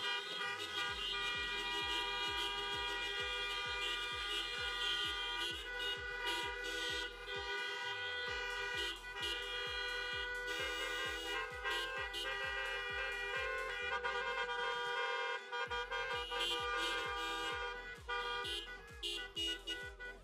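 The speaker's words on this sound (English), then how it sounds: "let's flash our lights and honk those horns for the graduating class of 2020" Many car horns honk together in a long, loud, sustained chorus of overlapping tones at a drive-through high school graduation, with a steady low pulsing thump underneath throughout.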